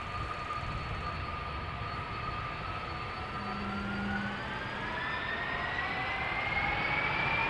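A 17-year-old Delta Airlines Airbus A330 lined up on the runway at Amsterdam Schiphol, a continuous, moderately loud engine rumble with a slowly rising turbine whine, steady and without talk.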